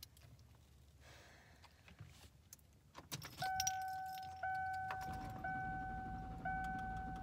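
A car being started on a cold morning, the engine failing to catch: keys jangle, then steady electronic warning tones ring out over a low rumbling cranking noise inside the car.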